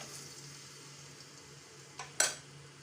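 Onions go into hot oil in a cooking pot over a gas stove on low flame. After a quiet hum, two brief sizzling bursts flare up near the end, the second louder and trailing off.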